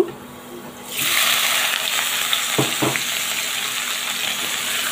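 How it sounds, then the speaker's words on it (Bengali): Malabar spinach (pui shak) dropped into hot oil with already-fried dried chilli and garlic, setting off a loud, steady sizzle that holds after the leaves go in, with a couple of soft stirring knocks. "দিয়ে এবার নাড়াচাড়া করে সুন্দর করে ভাজি করে নেব।"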